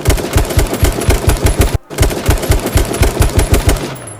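Rapid automatic gunfire from a shooter video game fires in an even, loud rhythm, briefly stopping for a moment before the burst resumes.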